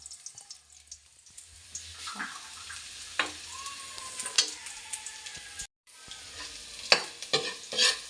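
Garlic fries in a pan with a steady, close sizzle and crackle that lasts the whole stretch. Scattered stirring scrapes and clicks sound over it, and there is a brief full break near the end.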